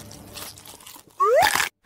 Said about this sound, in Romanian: Mi-am mușcat degetul!